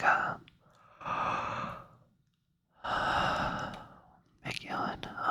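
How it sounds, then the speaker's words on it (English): A long, drawn-out yawn: breathy exhalations in several drawn bursts separated by pauses, close and soft, ending with a few shorter breaths. "big yawn."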